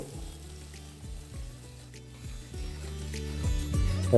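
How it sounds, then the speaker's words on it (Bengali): Five hundred grams of onions frying in oil for mutton dak bungalow, a soft continuous sizzle with faint periodic low knocking underneath, close and fairly quiet, no voices. "পাঁচশো গ্রাম পেঁয়াজ নিয়ে নিয়েছি এটাকে আমি তেলের মধ্যে দিয়ে ভালো করে ভেজে নেব"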